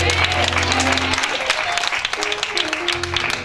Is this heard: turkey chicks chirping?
no